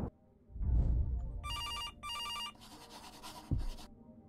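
A telephone rings in two clear bursts followed by fainter repeated rings, close by, with thumps and rustling noise around them and no speech.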